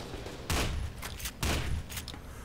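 Gunfire in the first-person shooter game FEAR 2: Project Origin, with two loud bursts of shots about a second apart, each followed by a few sharper echoing cracks, and no talk.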